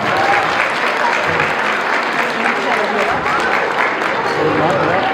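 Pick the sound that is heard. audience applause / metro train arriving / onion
audience applause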